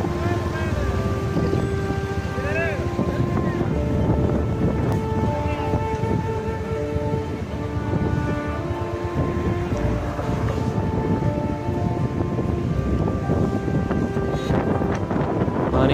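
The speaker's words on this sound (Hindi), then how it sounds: "काफ़ी स्पीड में ये पानी गुजर रहा है यहाँ से।" The Indus river in flood at Ghazi Ghat, Dera Ghazi Khan, carries about 600,000 cusecs of water past at high speed. It makes a loud, dense, unbroken outdoor roar that rumbles on throughout, with wind buffeting mixed in.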